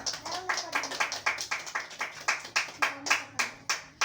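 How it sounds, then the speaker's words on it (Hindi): Rhythmic hand clapping at a 14th August celebration, a steady series of sharp claps at an even pace, fairly close and clear with no talking over it. "तालियां।"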